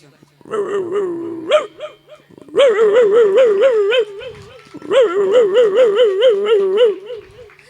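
A man imitates a street dog barking: a whiny, wavering growl, then two loud bursts of rapid yapping barks with quivering pitch, close and uninterrupted by other sounds.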